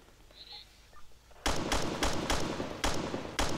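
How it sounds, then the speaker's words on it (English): Gunfire in Arma 2 aimed at a light armoured vehicle's wheels: after a quiet stretch, a series of loud, sharp shots rings out in an irregular burst of about seven reports, close and with no talking. "So I try and shoot out the wheels"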